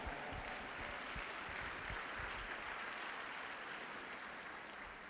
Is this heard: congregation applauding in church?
yes